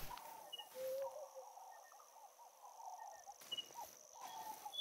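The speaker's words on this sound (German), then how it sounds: "Hört auf, hier rumzuquietschen, die blöden Vögel." Birds in TheHunter: Call of the Wild give faint, high squeaky chirps scattered over a quiet night ambience with insect-like trills, mostly distant and soft.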